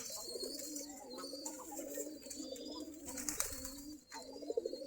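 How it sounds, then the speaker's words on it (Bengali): Local Giribaz pigeons coo steadily in a low, rolling rhythm, several birds overlapping close by with a few soft chirps on top and no talking. "সম্পূর্ণ দেশি গিরিবাজ কবুতর।"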